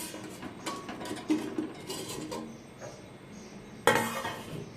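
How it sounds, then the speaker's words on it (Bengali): A lid comes off a cooking pot of vegetarian jackfruit curry: quiet scattered metallic clinks and rattles, then one sharp, close clank near the end, with no one speaking. "ঢাকনাটা খুলে নিচ্ছি।"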